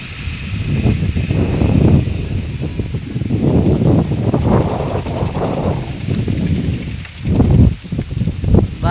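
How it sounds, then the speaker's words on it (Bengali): Strong outdoor wind buffets the microphone in a steady, loud low rumble for the whole stretch, easing briefly near the end, in open country with palm trees. "বাতাস না অনেক।"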